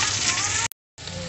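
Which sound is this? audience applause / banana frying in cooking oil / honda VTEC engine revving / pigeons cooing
banana frying in cooking oil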